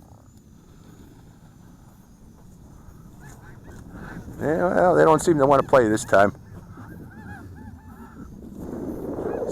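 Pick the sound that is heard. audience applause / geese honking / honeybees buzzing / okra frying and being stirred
geese honking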